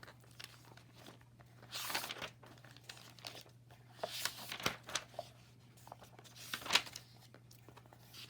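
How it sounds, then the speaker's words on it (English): Paper pages of a learning log being flipped and handled, soft crinkling rustles in a few separate bursts, quiet and close, with no speech. "I will flip to the next page,"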